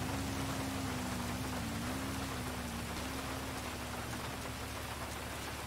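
Steady rain falling in the GTA 5 video game, a constant hiss of drops on surfaces, loud and even throughout with a low tonal hum underneath and no talk.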